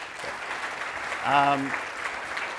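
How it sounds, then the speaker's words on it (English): Audience applause for a guest introduced on stage at a tech and social media conference, a steady broadband wash of clapping throughout with a short harmonic voice or tone rising above it midway. "Big round of applause."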